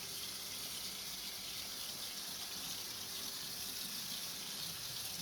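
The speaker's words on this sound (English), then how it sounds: "we're going to rinse it again with hot water" Hot tap water gushing steadily as a tie-dye shirt is rinsed in a sink, a constant close hiss of running water with no talking.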